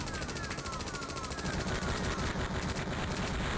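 Rapid machine-gun fire rattles continuously from a helicopter in the DOS game Thunderhawk 2, a dense, loud, unbroken burst of shots lasting the whole stretch.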